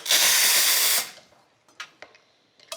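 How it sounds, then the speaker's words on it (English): An espresso machine steam wand foams oat milk for a brownie latte, giving a loud, steady hiss for about a second before it cuts off, followed by a few faint clinks and taps. "in the meantime, I'll foam our oat."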